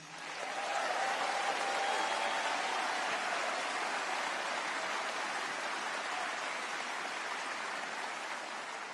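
A large audience applauds steadily at a Jewish community gathering in Sydney, a dense, even wash of clapping that holds at a loud level throughout with no voice rising above it.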